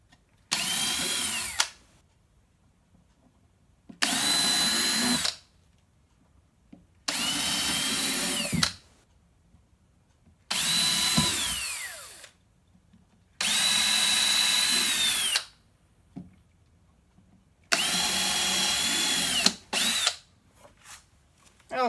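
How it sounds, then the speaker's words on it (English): Six bursts of a power drill whirring into wooden drawer fronts, each a few seconds long and separated by short pauses, close and fairly loud. "So now we'll just drill."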